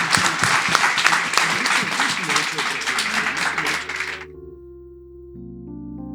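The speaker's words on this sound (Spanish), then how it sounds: "Un gran aplauso final para nuestros ponentes" A conference audience at a digital innovation forum gives the panel speakers a final round of applause, dense clapping that runs for about four seconds and then stops abruptly, followed by quiet tones.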